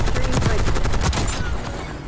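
AS VAL rifle fire in Black Ops 6, a rapid automatic burst of close, sharp shots in quick succession, loud and dense for most of the moment before tailing off into a fading echo.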